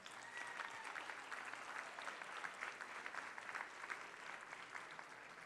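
A crowd at a teachers' awards event claps steadily and evenly, a dense, sustained applause heard from a distance at low volume.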